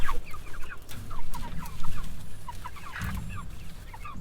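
Meat chickens, about seven weeks old, cluck and squawk steadily, several birds close by, with some rustling and handling noise as they are caught.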